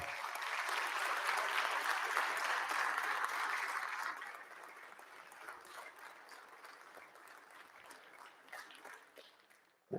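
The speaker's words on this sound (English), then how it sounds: "Please recognize them with applause." Applause fills a state House of Representatives chamber during a floor session, honoring a family in the gallery; loud sustained clapping for about four seconds, then fading to a thinner scatter of claps that trails off.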